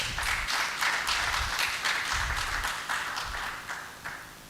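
An audience at a meteorological summit and awards event bursts into a steady round of applause that gradually fades over several seconds.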